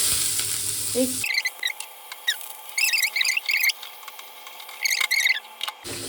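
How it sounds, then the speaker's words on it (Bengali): Cumin seeds and onion dropped into hot oil in a kadai, with bursts of sharp sputtering crackle recurring in short clusters after a brief clatter at the start, close and fairly loud. "সাদা জিরে দিলাম, তারপরে দিচ্ছি একটু পেঁয়াজ"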